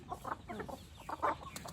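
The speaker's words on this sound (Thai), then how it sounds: "มีแม่ไก่ที่แบบมันไล่กันมาก" Hens cluck in short, overlapping bursts as they chase each other around a backyard flock of free-range village chickens, close and moderately loud with no talking.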